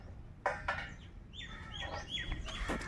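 A hen on a terrace garden gives a few short clucks and chirpy calls, fairly faint and slightly distant over outdoor background noise.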